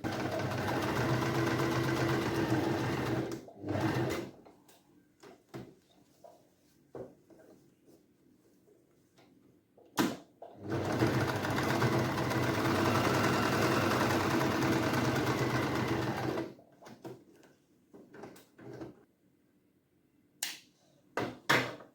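Sewing machine stitching a saree skirt seam, a close, rapid mechanical whirring in two long bursts separated by quiet pauses with scattered clicks and handling noises.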